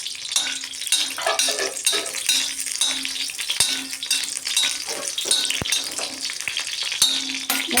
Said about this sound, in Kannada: ಈಗ ಸ್ವಲ್ಪ ಫ್ರೈ ಮಾಡೋಣ.